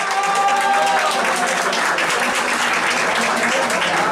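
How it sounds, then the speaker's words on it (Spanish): Studio audience applauding contestants on a Latin American talent show, loud continuous clapping with a brief sung or voiced tone at the start and crowd noise underneath. "quiero aplausos y no tanto grito"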